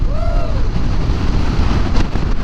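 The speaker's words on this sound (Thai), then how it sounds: "ลมแรงแบบนี้แหละทุกคน" Loud, steady wind buffets the microphone with a rough low rumble throughout, and a brief faint whistling tone rises near the start.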